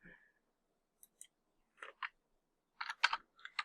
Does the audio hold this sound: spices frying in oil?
no